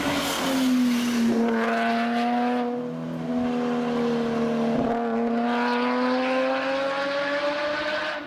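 A 3.0-liter flat-six car engine revs hard and loud, its pitch swelling and easing with a brief dip before climbing again; no voices.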